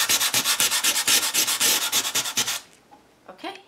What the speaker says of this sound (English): I'm going to go in with a little bit of sandpaper and just lift this texture back up